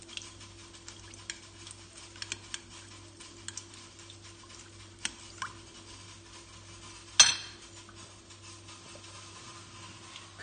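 Herbs and spices being mixed for chicken in a bowl, faint scattered clinks and scrapes of a utensil against the dish, with one sharper knock partway through.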